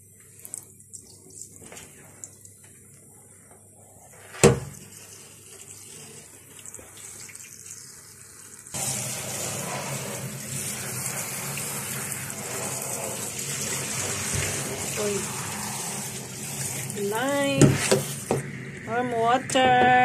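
Warm water runs from a tap to fill a bath, starting abruptly partway through as a loud, steady gush after a quieter stretch. Voices talk over the running water.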